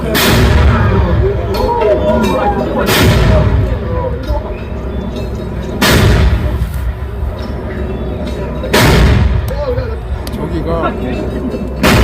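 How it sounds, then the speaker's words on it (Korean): Cannon blasts of a 21-gun presidential salute at the national cemetery, spaced about three seconds apart, each a loud booming crack with a rumbling decay, over steady crowd murmur and background talk. "대통령에 대한 조포 발사는 최고의 예우로 21발을 발사합니다"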